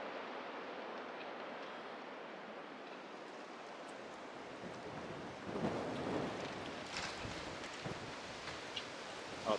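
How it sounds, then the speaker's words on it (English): Steady, rushing wind roars outdoors, buffeting the microphone, with a few stronger gusts and rattles toward the end. "And it's real windy today."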